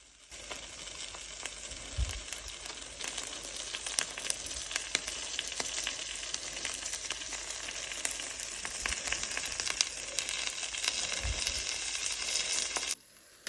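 Shrimp sizzle and crackle steadily in a hot pan, a close, continuous frying hiss with a few soft knocks and no talking.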